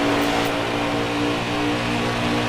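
A race car engine drones steadily at high revs during a race at Indianapolis, a loud continuous roar with a sustained tonal hum and no pauses.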